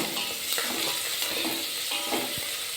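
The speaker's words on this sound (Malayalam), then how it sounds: "ഉള്ളിയും തക്കാളിയെല്ലാം ഒന്ന് വാടി വന്നിട്ടുണ്ട് നമുക്ക് ഇതിലേക്ക് ഇതാ രണ്ട് തണ്ട് കറിവേപ്പില ഇത് ചേർത്ത് കൊടുക്കാം" Onion and tomato frying in a pan as sprigs of curry leaves go in, a steady close sizzle with scattered scrapes and clinks from stirring and a louder knock at the end.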